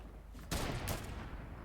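A quick burst of video game gunfire rings out, a short loud volley followed by a second shot, over low background noise.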